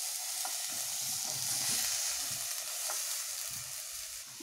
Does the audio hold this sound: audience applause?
no